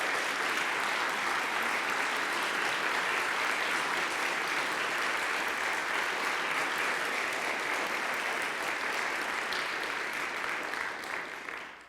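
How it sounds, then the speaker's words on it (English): Sustained audience applause for Poughkeepsie firefighters at a 2017 State of the City address, a steady dense wash of clapping from a large crowd that holds for about twelve seconds before tapering slightly at the end. "Please give these guys a round of applause."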